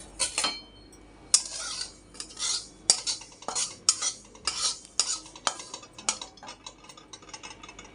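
Two spoonfuls of sesame seeds are dry roasted in a pan, with a spoon or spatula scraping and clattering against the metal in quick, uneven strokes, each one sharp and close, and the seeds rattling lightly between strokes.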